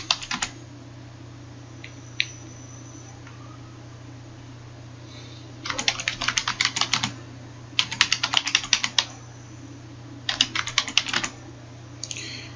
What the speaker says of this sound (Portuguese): Você pode digitar e-mail por e-mail.